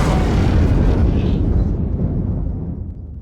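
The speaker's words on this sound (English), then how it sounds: "The Kestrel just took a missile hit" A missile strikes the Kestrel carrier in Ace Combat 5, a loud, close, rumbling explosion that roars right away and then slowly fades over a few seconds, with no voices.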